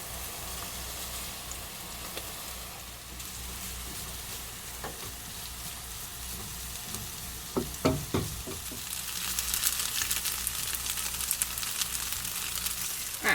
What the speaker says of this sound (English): fry it off just to make it a little bit more crispy